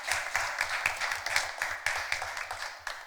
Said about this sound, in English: Please give our judges a round of applause.